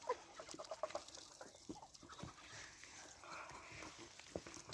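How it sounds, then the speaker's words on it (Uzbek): A large rooster, kept with other poultry in a home yard in winter, gives short clucks and calls over scattered background noise, with occasional brief sounds throughout. "Mana bu shu velikan xo'rozimiz."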